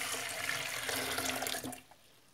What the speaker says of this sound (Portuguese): Agora você vai colocar mais ou menos quase 1 litro de água de novo.